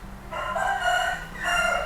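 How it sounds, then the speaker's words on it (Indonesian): Rooster crowing in a village, one long loud cock-a-doodle-doo followed by the start of a second crow, close by over a low background hum. "Ada ayam, ada burung, ada yang seperti itu Mbak Ayu."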